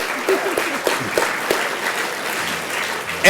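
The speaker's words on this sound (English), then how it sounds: "So a big round of applause to table 1." Audience applause at an education foundation awards ceremony in Worcester, a steady round of clapping from a seated crowd that holds fairly even for a few seconds, with faint voices mixed in underneath.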